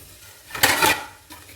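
Metal pots or dishes being handled in a home kitchen while making puttu, giving a brief clattering burst of clinks near the middle and a softer knock toward the end.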